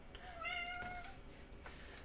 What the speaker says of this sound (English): Other cat is meowing.